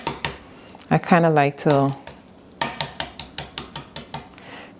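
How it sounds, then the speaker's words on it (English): Hard-boiled eggs are cracked against a hard surface in a steady series of about a dozen sharp, close taps, following a brief spoken phrase. "Now I'm going to crack the eggs."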